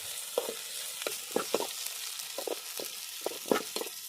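Onions fry in about five spoons of oil on a full-heat grill at an outdoor farm cook, giving a constant soft sizzle with intermittent scraping stirs.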